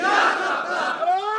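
A crowd at a religious sermon chants slogans in unison, a loud sustained wave of raised voices that dips briefly and surges again.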